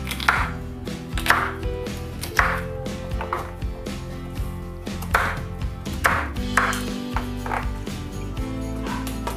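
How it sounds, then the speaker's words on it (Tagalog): A knife slices potatoes into thin shreds for french fries, sharp, close chopping strokes landing in an uneven rhythm against a board, with no talk and a faint steady hum underneath. "I-slice natin lang shredded para sa french fries"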